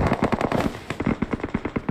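Rapid automatic gunfire in the mobile battle royale game BGMI, a fast run of sharp, evenly spaced shots in quick bursts, loud and close with no talking over it.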